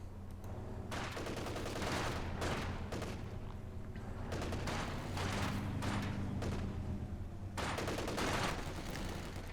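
Sustained bursts of machine-gun fire and scattered gunshots in the World War II strategy game Company of Heroes 2, loud and continuous throughout, with a few heavier booms and no talk over it.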